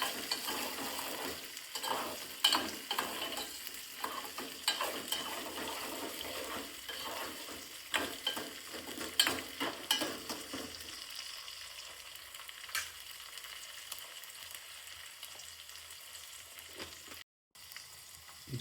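Cut green chillies frying and being stirred in a pan, prepared in a village-style home kitchen: a steady crackling sizzle with scraping strokes that eases off halfway, then a quieter simmer with occasional clicks.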